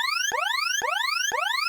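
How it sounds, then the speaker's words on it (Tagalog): A Minecraft alarm loops in upward-sweeping electronic whoops. Each sweep repeats about every half second at a steady, loud level, with no voices over it. "Hala, teka, nag-a-alarm na naman."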